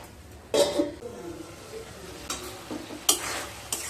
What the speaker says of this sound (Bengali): এবার ঢাকা দিয়ে মশলাগুলোকে খুব ভালোভাবে কষিয়ে নিয়ে তারপর ফিরে আসছি।